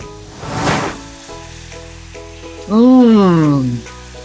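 Curried fish with red peppers and sliced white cabbage simmers in a covered pan on very low heat. A short, loud sizzling burst is followed by a steady low hum and a rising-then-falling tonal sound.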